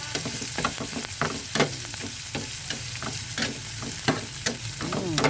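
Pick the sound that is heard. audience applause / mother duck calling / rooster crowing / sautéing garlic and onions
sautéing garlic and onions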